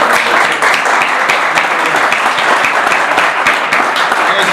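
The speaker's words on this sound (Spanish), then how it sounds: "aplaudimos" Loud, close applause fills a room at an oil industry training event, with many hands clapping in a dense, steady stream and some sharp individual claps standing out.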